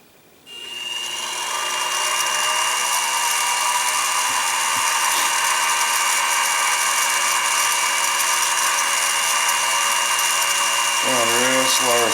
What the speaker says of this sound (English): Real slow starting the hole, because I don't want that drill bit to walk.